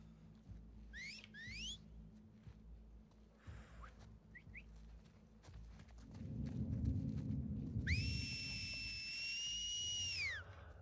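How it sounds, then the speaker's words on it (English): A game character in The Last of Us 2 whistles clear rising two-note calls early on, followed later by a long sustained loud whistle tone over rumbling movement and hoofbeats, with no talking. "will you stop whistling, you girl?"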